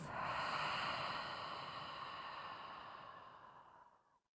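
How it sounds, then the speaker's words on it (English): A person slowly exhales a deep breath out through the mouth during a vinyasa yoga flow, a long soft airy whoosh that tapers off over about four seconds and ends in silence. "let's all take a deep breath in through the nostrils together and breathe out through the mouth"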